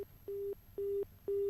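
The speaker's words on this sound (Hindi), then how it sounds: "लगता है फोन डिस्कनेक्ट हुआ है" A telephone busy tone follows a disconnected call on a live television panel discussion. It comes as three evenly spaced steady beeps with short silences between them, faint and alone.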